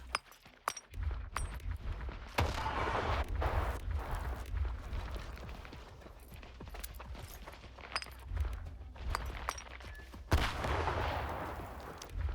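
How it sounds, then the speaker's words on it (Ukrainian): Grenade blasts and gunfire ring out in the video game S.T.A.L.K.E.R. 2, a fight against Monolith fighters and a bloodsucker, with repeated booming impacts and sharp shots spread across the stretch over a dense, noisy battle background. "а я їм ще гранату туди закину"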